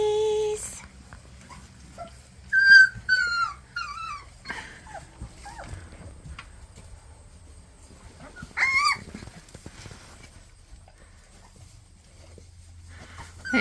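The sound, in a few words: puppies whimpering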